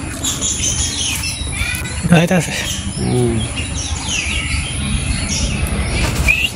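A weak baby bird that fell from a high nest in a Bangladeshi village chirps in short, thin calls over steady outdoor background noise, while people talk nearby.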